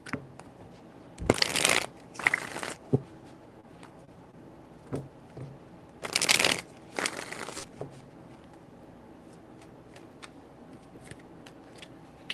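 Tarot cards are shuffled up close in four quick crisp riffles, grouped as two pairs with a pause between them, and no one speaks.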